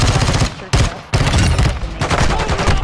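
Rapid pistol fire in Call of Duty, a dense run of loud gunshots with brief pauses, firing nearly continuously for a few seconds.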